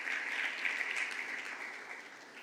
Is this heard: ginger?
no